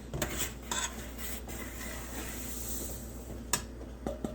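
A spoon stirs unsweetened applesauce and sugar together in a pot for stovetop apple butter, making close metallic scrapes and clinks against the pot with a soft, continuous hiss underneath.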